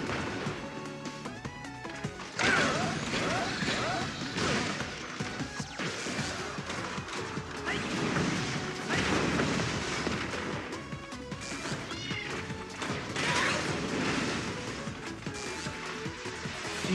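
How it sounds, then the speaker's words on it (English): Repeated crashing blasts in Mega Man 11's collapsing stage, loud bursts and debris smashes layered over game music in a busy, sustained stretch. "Feel the explosion."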